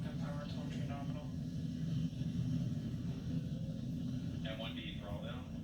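A SpaceX Falcon 9 rocket carrying a Dragon crew capsule roars steadily in a continuous low rumble played on a TV, with commentary voices talking over it.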